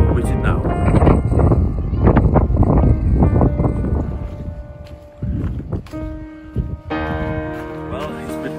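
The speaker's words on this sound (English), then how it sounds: "it's very windy" Strong wind buffets the microphone with low rumbling gusts while a person talks by a small shipyard in Scandinavia; tones ring out later as the gusts ease.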